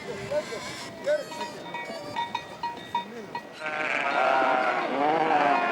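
Sheep and goats bleating at a desert well, several animals calling in short, wavering cries at moderate distance, with a louder overlapping chorus near the end and a voice speaking over them.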